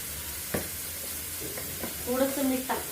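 Mushrooms sauté in a pan with salt, making a soft continuous sizzle with a few stirring clacks. A voice talks briefly under it near the end.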